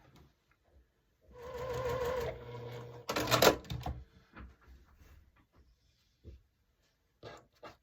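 A sewing machine stitches a quilt block for a Flying Geese pattern, running in a steady whir for about a second, pausing, then a short faster burst, followed by small clicks and handling noises.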